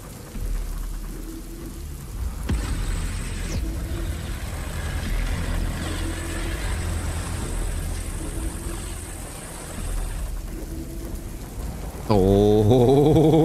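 Steady rain hisses down in the War of the Worlds video game, a continuous close wash of falling water with low rumbling underneath and a louder tonal swell at the very end.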